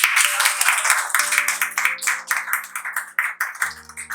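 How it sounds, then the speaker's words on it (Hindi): An audience at a Hindi poetry recital claps in a fairly steady rhythm, with loud, sharp, close hand claps over sustained musical tones playing underneath. "तालियां बजा दीजिए।"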